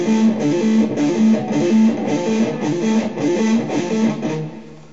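Electric guitar sweep picking with palm muting, a driven tone playing quick choppy arpeggios up and down the strings in a steady stream of short, damped notes, close and loud for about five seconds before trailing off.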